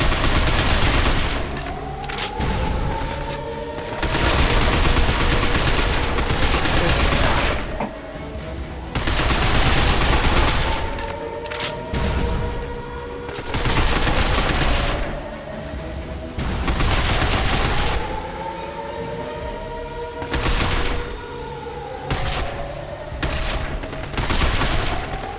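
Sustained bursts of gunfire in the sci-fi shooter Binary Domain as robot enemies are shot down, loud rapid volleys repeating in waves with short pauses between.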